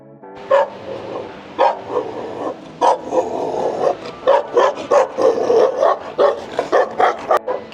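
A dog in Nepal barks repeatedly and loudly at close range, sharp yaps in irregular bursts mixed with whiny, excited yelps.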